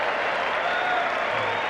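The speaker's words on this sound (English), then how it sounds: "The New Zealanders in the crowd making the most of the opportunity to cheer." A cricket crowd at a New Zealand versus West Indies match in Sydney applauding and cheering, a dense steady roar of clapping that holds evenly throughout.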